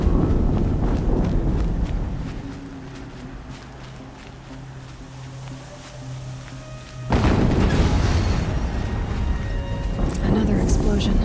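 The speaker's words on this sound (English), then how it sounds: "Another explosion." An explosion in the video game Horizon Zero Dawn, set at Maker's End, bursts in as a sudden loud broadband boom partway through, following quieter rumbling and footsteps, with voices talking across the scene.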